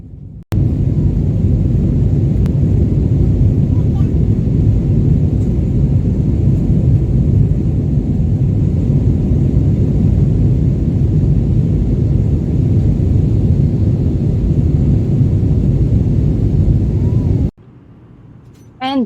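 Airplane cabin engine noise in flight, a loud, steady low roar that holds unbroken for about seventeen seconds and then cuts off abruptly near the end.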